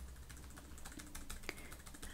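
Computer keyboard and mouse clicks while copying and pasting text, a run of light close taps and clicks with one sharper click partway through, quiet and with no talking.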